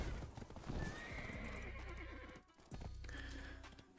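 A Courser horse in a video game clip-clops with steady hooves and gives a clear, drawn-out neigh, all close and fairly loud with no talking.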